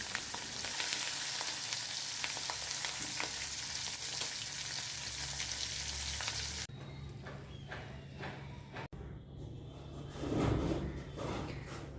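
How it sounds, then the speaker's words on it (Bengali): Bata fish rubbed with salt and turmeric fry one by one in hot oil, a loud, dense, crackling sizzle that drops to a quieter hiss with scattered clatter and clicks from the pan. "তেল গরম হয়ে গেছে তো এক এক করে সব মাছগুলোকে ভেজে তুলে নিই"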